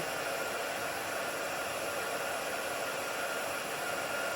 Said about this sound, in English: I'm just going to heat emboss it with my hot gun